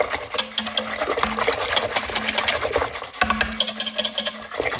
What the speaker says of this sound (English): I'm going to just spend a few seconds whisking that up, try to get everything nicely blended.